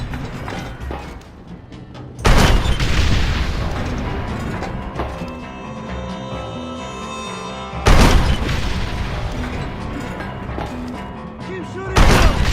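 Gunfire in Red Dead Redemption: heavy booming shots, three loud bursts spaced several seconds apart, each ringing into a dense rumble, with shouting voices and game noise between them.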